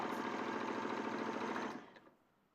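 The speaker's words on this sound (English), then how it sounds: "So I'm just sewing down my dart." A sewing machine stitching down a dart in fabric whirs in a fast, steady run, then winds down and stops near the end, close and alone.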